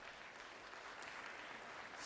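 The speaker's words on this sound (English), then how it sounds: "Give her a round of applause." Steady applause from a crowd, dense clapping that fills the whole stretch at an even level with no talking over it.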